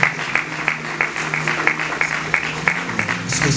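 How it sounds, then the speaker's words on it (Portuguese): Applause from an audience at a ceremony, many hands clapping steadily at close range, loud and continuous for the whole stretch. "Podemos aplaudir."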